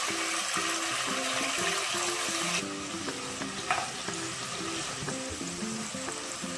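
Chopped tomatoes and green chillies frying in a pan for chana rice, a busy, close sizzle that drops to a softer crackle partway through, with stirring clatter and a brief clink.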